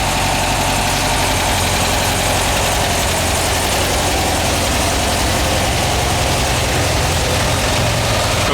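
A freshly installed VW double cab engine idles unevenly and loudly, a constant low rumble with a rough, fluttering vibration that never changes pace.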